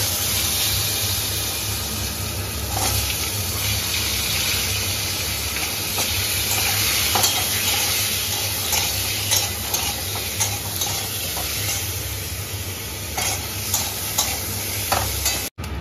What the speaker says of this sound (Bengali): মাংস আলুগুলো ভাজিয়ে নেবে আগে